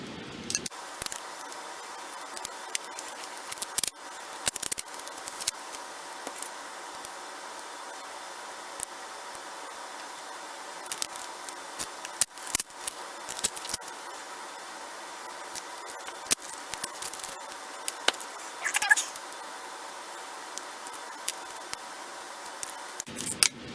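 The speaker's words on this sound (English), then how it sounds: "Cut the tape, not the battery" Scissors cut through fiberglass-reinforced tape wrapped around a lithium battery pack, with irregular crisp snips and crunches close to the mic over a faint steady background hiss.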